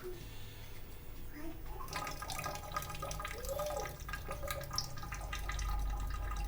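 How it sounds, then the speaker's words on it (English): Tap water runs and splashes while a cleaned crayfish, or rock lobster, is briefly rinsed inside, with a soft, uneven trickle at close range and some faint background voice. "I won't wash it much, but just a bit of wash inside."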